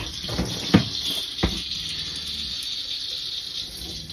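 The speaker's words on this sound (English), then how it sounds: "I'm going to open up the hot water" Hot water gushes from a travel trailer shower faucet in a steady, hissing stream while flushing RV antifreeze from the lines, with a couple of sharp knocks and squeaks near the start.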